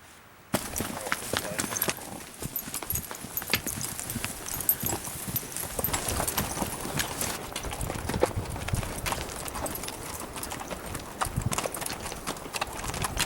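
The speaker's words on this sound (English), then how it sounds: "We're gonna take the horses up to Ross Lake." Horses walk along a cloudy mountain trail toward Ross Lake, a continuous uneven clatter of hooves with rustling and jostling, close and fairly loud throughout, with some talking mixed in.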